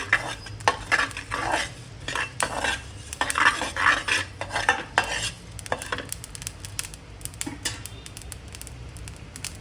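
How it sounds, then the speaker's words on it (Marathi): Cumin and coriander seeds dry-roasting in an oil-free pan, stirred with a utensil: steady scraping and rattling for the first six seconds, then quieter, sparser clinks with a faint sizzle toward the end. "आता आपण जिरं टाकायचं आहे, धने टाकायचे आहे, भाजून घ्यायचे व्यवस्थित."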